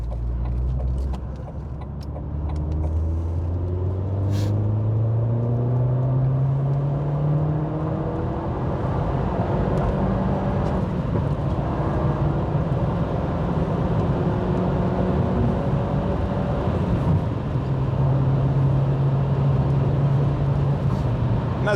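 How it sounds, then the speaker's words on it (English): Engine of an Opel Astra H OPC accelerating hard on a motorway, a loud continuous drone rising in pitch through the gears with road and wind rush; no distinct pops or bangs stand out. "I hope the microphone picked up the pops and bangs there"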